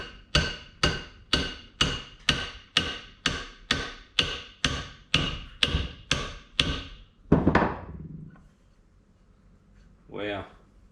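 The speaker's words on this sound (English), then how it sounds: "give it a tap with a copper hammer" A copper hammer taps a Yamaha XS650 fork damping tube about fifteen times in a steady, even rhythm, each strike sharp and ringing, followed by a scraping clatter and one softer knock.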